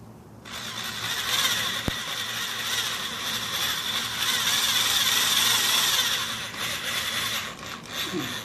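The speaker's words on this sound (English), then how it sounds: "Just going to drill a couple pilot holes" Power drill boring a couple of pilot holes into a Bayliner boat hull while mounting a fishfinder, a steady loud mechanical whir running for most of the stretch with a sharp click near the start and tapering toward the end.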